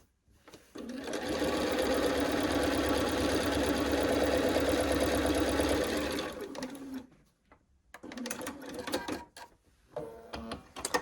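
A sewing machine stitching a Quilts of Valor block, its rapid needle chatter running steadily for about six seconds, then stopping, followed by handling clicks and short bursts of movement nearby.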